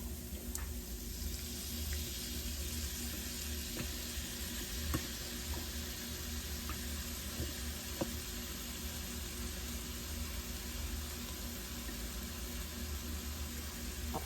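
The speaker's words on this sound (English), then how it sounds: "We added in the tomato sauce, and then we'll add in the vegetable broth." Vegetable broth poured into a hot pot of tomato sauce gives a steady, close sizzling hiss with faint watery pouring and occasional small pops throughout.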